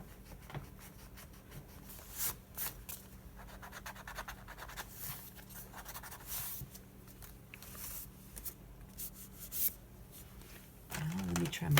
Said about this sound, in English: Let me see if I can erase that off of there.